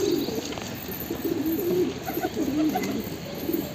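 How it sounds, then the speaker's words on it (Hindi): A white pigeon cooing on a rooftop, a series of soft, rolling low coos repeating in short phrases, fairly close against quiet outdoor background noise. "एक वाइट कबूतर जो उड़ के गया वहाँ पे"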